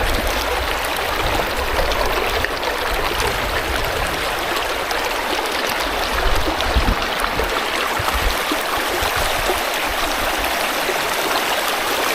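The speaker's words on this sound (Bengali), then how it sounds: "আর পানির গর্জনটা একবার শুনুন ও মাই গুডনেস" Clear river water rushes loudly over stones at Sada Pathor in Bholaganj, Sylhet, a constant close roar of flowing water filling the whole clip without pause or voices.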